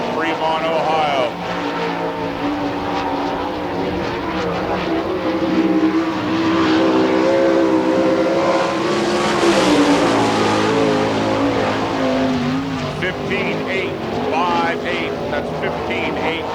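Sprint race cars lap a dirt oval at a Spring Nationals event in Hartford, Ohio, their engines a loud sustained roar that swells and fades as they pass, with an announcer talking over it.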